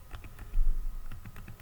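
Computer keyboard arrow keys pressed to nudge a model railway control slider: a series of soft, quick plastic key clicks in an uneven rhythm, close and fairly quiet.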